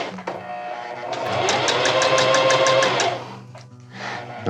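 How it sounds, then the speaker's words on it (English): A new sewing machine stitches fabric for a DIY bridge hammock, a steady mechanical whir with a fast rhythmic needle clatter that swells for a couple of seconds mid-clip, then eases off, close and fairly loud with no talk. "New sewing machine"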